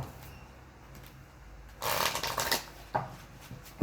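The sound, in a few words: shuffling tarot cards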